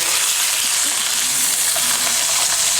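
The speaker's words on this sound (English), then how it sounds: "The burgers look like they might be ready to flip, so I'm gonna give them a flip." Burgers sizzle and fry in hot oil, a steady, close, dense crackling hiss with no talk over it.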